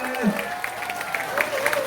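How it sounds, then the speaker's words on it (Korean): Brief burst of crowd applause at a lively Friday-night Pumba fire show, clapping mixed with crowd noise and a bright tonal sound running under it. "박수 한번 주십시오"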